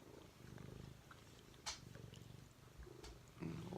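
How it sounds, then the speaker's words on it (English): A cat purrs up close, a low steady rumble with a few soft rustles and a brief higher sound partway through. "You're a loud purr box. You have a loud purr box."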